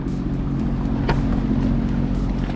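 Sea-Doo personal watercraft cruising on the Trent Severn Waterway near Bobcaygeon, its engine a steady low rumble with wind buffeting the microphone and water rushing past, continuous and close throughout.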